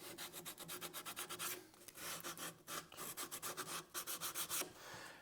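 Sandpaper rubs by hand over a wooden tool organizer in steady, rhythmic back-and-forth strokes, a close, dry rasping that repeats several times each second with brief pauses between runs.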